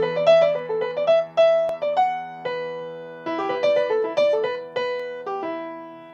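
Solo piano improvisation on a modal, anthem-like melody, with clear sustained single notes and chords that mix steps and leaps, played in phrases separated by brief pauses.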